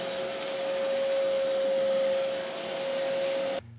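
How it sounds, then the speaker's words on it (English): A shop vacuum runs steadily and loud with a constant motor whine and airy rush, cutting off abruptly near the end. "finally got myself a shop vac"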